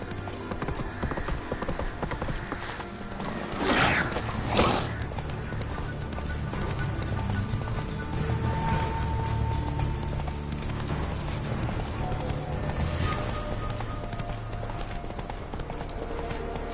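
Roach the horse gallops in a PS4 video game, a steady clip-clop of hooves running throughout with a brief whinny-like burst near the start, over a continuous game soundtrack and ambience.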